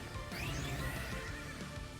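Horse enemies neighing in the video game Shin Megami Tensei: Soul Hackers 2, a brief, faint whinny over dense game sound effects and background noise.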